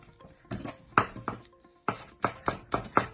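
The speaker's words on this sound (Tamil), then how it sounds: "எடுத்து நான் இதை ஃபைன் ஸ்லைஸ் பண்ண போறேன்" A knife cuts through rolled kurinja leaves on a board in sharp, close chops, a few scattered strikes followed by a quicker, regular run of five or six slices.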